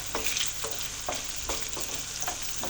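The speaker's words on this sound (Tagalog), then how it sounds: "Tapos, lagay ko na yung sibuyas, bawang yan." Onion and garlic sauté in hot oil, giving a steady close-up sizzle broken by repeated stirring scrapes, with no voices.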